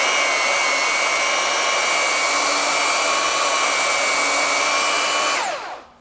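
A Craftsman V20 brushless belt sander runs in reverse, a loud steady high-pitched whine with a broad airy hiss, holding constant for several seconds before the motor cuts off and the pitch winds down.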